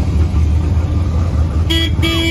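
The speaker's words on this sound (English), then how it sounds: "Oh, hit the horn." A 1969 Plymouth Roadrunner convertible with a 383 engine, parked at a street machine show, sounds its horn in two short, loud honks near the end, over a steady rumble of crowd and engine noise.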